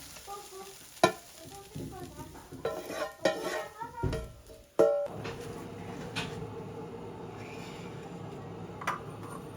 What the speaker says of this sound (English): The fried rice comes together quickly.